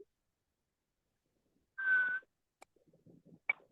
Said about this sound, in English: I can whistle with my lips.